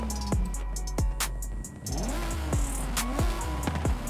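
BMW M3 in Forza Horizon 5, fitted with a new exhaust, revving repeatedly in sharp bursts, each throttle blip rising and falling in quick succession, loud and close with no talking.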